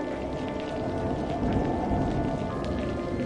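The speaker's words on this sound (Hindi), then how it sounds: "मंगेश, ये बारिश तो थमने का नाम ही नहीं ले रही।" Heavy rain falls steadily outside a house on a cold January day, a dense, even hiss of drops with faint rumbling underneath, continuous and without talk.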